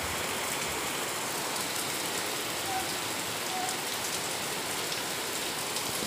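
Heavy rain pours down steadily, a dense, even hiss of drops drumming on surfaces with no break.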